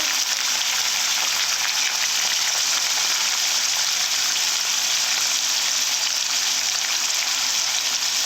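Bitter gourd and fish fry with salt in hot oil, giving a dense, steady, loud sizzle that carries on without a break, close to the pan.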